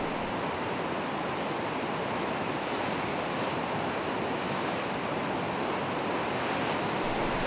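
A hillside waterfall on the Annapurna trek in Nepal roars as a steady, dense rush of falling water, broad and unbroken from start to finish with no voices.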